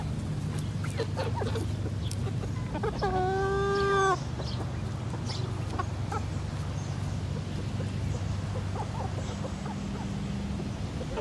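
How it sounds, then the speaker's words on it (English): Farm fowl (ducks, geese, chickens and a turkey) outdoors in fine weather, with a clear clucking, crowing call standing out briefly over steady background noise and scattered faint bird sounds. "Here you guys can see some of our ducks, geese, chickens, and turkey just enjoying the nice weather."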